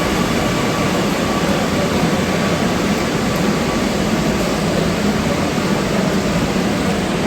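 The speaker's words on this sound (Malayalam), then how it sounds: "നമ്മുടെ മെട്രോ വണ്ടി വന്നു" A Kochi metro train pulls into the station with a loud, steady mechanical rumble and whine that fills the whole stretch without letup, and no voices are heard.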